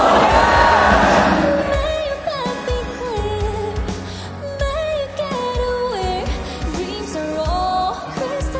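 A concert audience at the Wuthering Waves To the New World tour cheers loudly and sings along, a roaring crowd swell at first that gives way to music with voices carrying over it.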